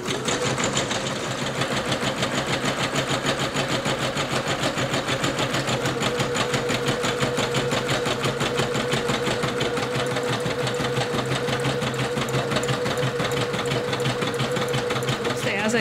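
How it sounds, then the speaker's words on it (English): A Singer Legacy SE-300 embroidery machine runs a satin stitch around a bow design with a steady, rapid rhythmic whirring and tapping, close and continuous, with a voice talking over it. "it's going to do the cute satin stitch all around the bow"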